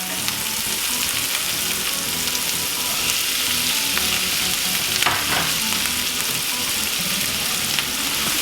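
Bell peppers hit onions already frying in oil in a pan, making a loud, steady, close sizzle with a few faint clinks and scrapes of stirring.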